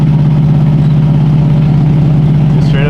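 A modified Subaru STI engine rumbles steadily at idle with a deep, loud, continuous exhaust drone close by, sounding like an exhaust leak.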